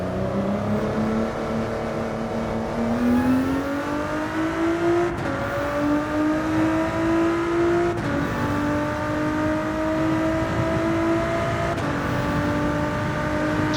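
A race car engine in Gran Turismo 7 drones continuously, its pitch rising through each gear and dropping at the shifts, loud and steady with no talk.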